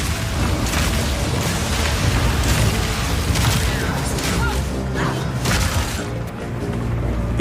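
Armor-piercing crossbow bolts fire in Path of Exile 2 amid dense battle noise, a loud rumbling wash of booms, impacts and mechanical clatter with repeated sharp bursts throughout.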